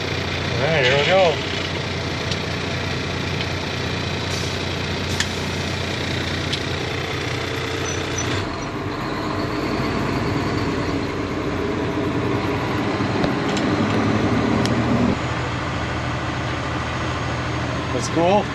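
A semi truck's engine idles with a low, steady rumble, then begins to roll, the engine note rising beneath frequent nearby voices of an adult and someone talking.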